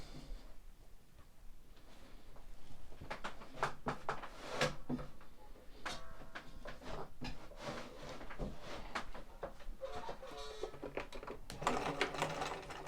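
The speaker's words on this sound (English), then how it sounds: "if you turn the machine on, it sews better" A sewing machine runs with an edge stitch foot, stitching along fabric in steady bursts with brief pauses between runs. It sits close and moderately loud, with no talk over it.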